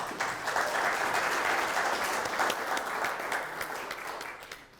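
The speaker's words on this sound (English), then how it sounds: "We might want to clap again for Darlene" An audience at a company halftime event claps for Darlene, a 19-year team member, in a steady, moderately distant wash of applause that tapers slightly near the end.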